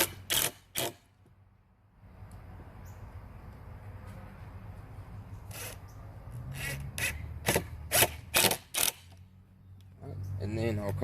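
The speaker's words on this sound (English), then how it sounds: "I'm going to go ahead and screw down this side first right here" Screws being driven into a scrap wood shelf with a power driver, heard as a steady mechanical whir lasting several seconds, followed by a few sharp knocks and clicks, with talk around it.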